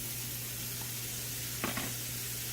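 Sausage frying in melted butter in a pan, a faint steady sizzle with a low hum beneath and a couple of brief soft clicks of a utensil near the end.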